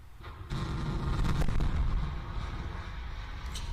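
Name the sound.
rocket impacting the launch pad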